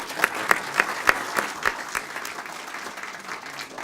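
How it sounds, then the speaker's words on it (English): Audience applause for award winners at a space industry awards ceremony, a steady wash of many hands clapping with a few sharp, close claps standing out early, then settling into a thinner continuous patter. "So let's give one final round of applause to all of our winners."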